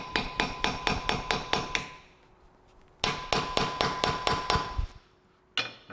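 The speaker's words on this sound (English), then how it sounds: "And then get your screwdriver, put it in, hit it," A hammer striking a screwdriver to loosen a stuck screw on a Kia Sportage brake caliper: two runs of about eight rapid, evenly spaced metallic blows, close and loud, then a single final hit.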